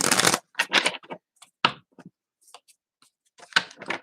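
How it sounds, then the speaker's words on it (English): Quick bursts of tarot cards riffling and snapping together, a loud shuffle at the start, then scattered softer flicks and another brisk riffle near the end. "Just give these a real good shuffle."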